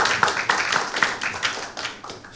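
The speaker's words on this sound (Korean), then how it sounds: "박수 부탁드리겠습니다." A small audience claps briefly at a Korean political rally, with scattered, uneven hand claps at moderate distance and no talk over them.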